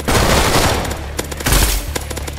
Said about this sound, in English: I'm gonna return fire. Shoot me again.